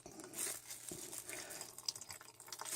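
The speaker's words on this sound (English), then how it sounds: "we're just going to strain off what excess water we have" Excess water being poured off cooked noodles through a strainer, a steady splashing, trickling rush close by with a few drips, no talking.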